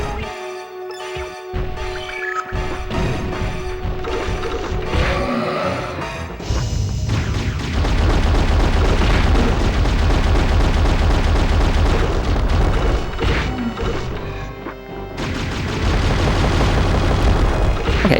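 A bomb thrown in the PS1 game Alundra, fought on sand, gives loud crashing explosions and heavy impacts over dense game music, with a sustained roaring stretch in the middle.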